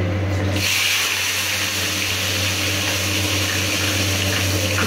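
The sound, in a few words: eggplant frying in hot oil with asafoetida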